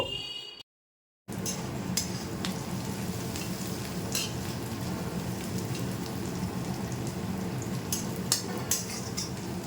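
Onions frying in a pan for jackfruit do pyaza, giving a steady dense sizzle with occasional stirring clicks; the sound cuts out briefly near the start, then continues evenly at close range with no talking.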